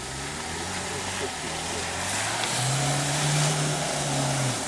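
Lada Niva stuck off-road with its engine droning and climbing into a strained rev as the driver presses the throttle, close and steady, while people shout nearby.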